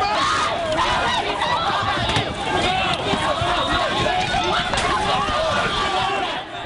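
A crowd of protesters outside a detention center during the G20 summit, with loud, dense chanting and shouting voices massed close together and continuous throughout.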